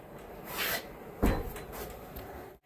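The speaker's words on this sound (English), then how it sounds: "Shut the door." A wooden door shuts in a small organized workshop or shed with a heater running, giving a single soft thud with a short rattle, close by, followed by quiet room tone.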